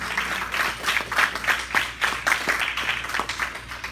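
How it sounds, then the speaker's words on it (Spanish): A congregation at an evangelistic church service claps steadily in a rhythmic, fairly loud burst of applause that continues without a break. "Da un fuerte aplauso al Rey."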